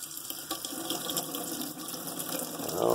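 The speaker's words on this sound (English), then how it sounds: "Hot water all the way over." Hot water runs steadily from a tap in a Forest River Wildwood X-Lite RV, a continuous splashing hiss into the sink that swells slightly near the end.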